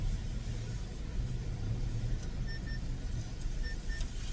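Lunchtime traffic in a Dutch market car park: a low, continuous rumble of car and bus engines close by, with a couple of faint high beeps partway through.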